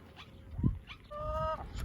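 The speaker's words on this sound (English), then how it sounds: "gonna let his chickens out" A few short chicken calls, brief clucks and a higher drawn-out squawk, heard close by in a quiet outdoor setting as the chickens are let out.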